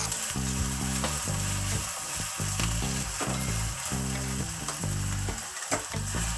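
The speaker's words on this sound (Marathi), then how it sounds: "आपलं तेल गरम झालं आहे मी त्याच्यात कांदा घालून घेते" Onions sizzle and fry steadily in hot oil in a home kitchen pan, a dense continuous crackle with occasional stirring knocks, close and alone with no talking.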